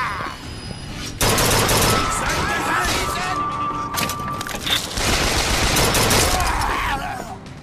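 Sustained gunfire in the underwater city of BioShock 2, a dense, loud fusillade of rapid shots and crashes that keeps up for several seconds, with brief gaps, and a faint voice partly mixed in.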